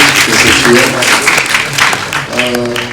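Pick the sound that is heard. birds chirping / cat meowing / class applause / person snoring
class applause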